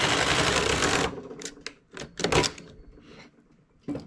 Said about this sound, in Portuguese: Vou tecendo até dar o comprimento que eu preciso para minha parte das costas.